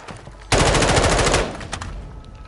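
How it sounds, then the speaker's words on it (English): Video game gunfire: a sudden loud burst of rapid automatic shots lasting about a second, followed by fainter trailing echoes and scattered distant reports. "Taking fire!"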